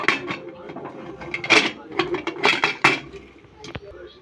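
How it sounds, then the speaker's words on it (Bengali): A metal lid is fitted onto a pressure cooker holding biryani rice and water, giving a series of close clinks, scrapes and a ratcheting twist, with a person talking at intervals. "এখন ঢাকনাটা লাগিয়ে দেব।"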